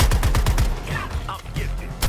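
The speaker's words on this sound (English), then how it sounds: "Providing support fire." Rapid automatic gunfire laying down support fire in a shooter game, a fast rattling burst of close, loud shots that then gives way to scattered distant pops and a brief voice.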